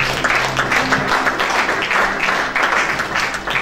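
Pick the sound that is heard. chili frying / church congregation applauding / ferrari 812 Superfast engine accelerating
church congregation applauding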